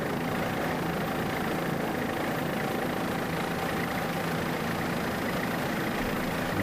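Racing powerboat, a 32-foot Doug Wright hull driven by a 2.5-liter Mercury outboard during the Suncoast Offshore Grand Prix, gives a continuous, steady engine roar with a faint whine, unbroken and at constant loudness.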